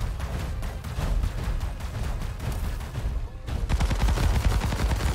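Robot weapons in the video game War Robots fire in rapid, dense bursts of gunfire, loud and continuous, with a heavier, booming volley of shots toward the end; no talking over it.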